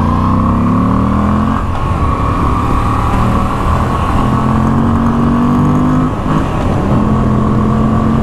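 A 2021 Moto Guzzi V85 TT motorcycle ridden at speed, its loud engine drone rising in pitch with brief drops at each gear shift, over steady wind noise.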